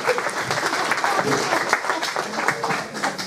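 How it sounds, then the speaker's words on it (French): Audience applause fills a house-church seminar hall, a steady dense clatter of many hands clapping at moderate level throughout, with no speech over it. "Give him applause."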